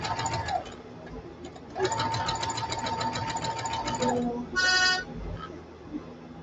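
A sewing machine runs in close, steady bursts of rapid, whirring stitches while hemming a T-shirt or jeans in a makerspace, with short pauses between runs.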